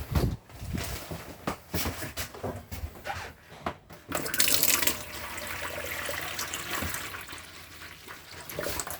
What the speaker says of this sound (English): You can then run the water through the tap to get the air out.